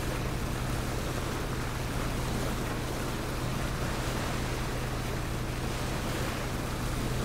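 Motorboat in PUBG (PlayerUnknown's Battlegrounds) cruising over water: a steady low engine drone with a constant hum runs beneath broad, continuous wave and wind wash, loud and unbroken throughout with no talk.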